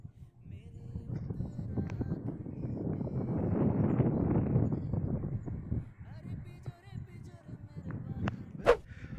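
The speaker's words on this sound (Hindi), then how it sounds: "हवा चल रही है, हो सकता है कि मेरी आवाज़ ठीक से सुनाई नहीं दे रही हो" Wind blows steadily across a Himalayan mountain trail on the Dudhatoli trek, buffeting the microphone with low rumbling gusts. It rises and falls in strength, with occasional sharp knocks and faint background voices.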